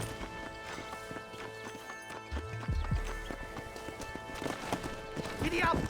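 A horse gallops in the video game Red Dead Redemption, a steady run of hoofbeats with a whinny near the end, mixed with game effects and a voice speaking over it.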